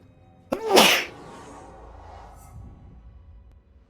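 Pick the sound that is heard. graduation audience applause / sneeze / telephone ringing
sneeze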